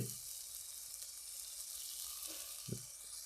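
Ground poppy-seed paste fries and sizzles in a pan as it is stirred and cooked down, a soft steady hiss broken by a few light scrapes, with no one speaking.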